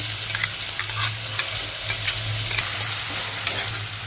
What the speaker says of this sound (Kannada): ಸ್ವಲ್ಪ ಇದು ಎಣ್ಣೆ ಒಳಗೆ ಫ್ರೈ ಅಲ್ರಿ ಮಿಕ್ಸ್ ಮಾಡ್ಕೊಳ್ಳೋಣ